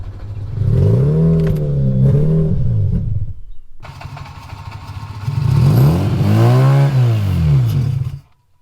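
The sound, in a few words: Mazda RX8 engine revving then cutting out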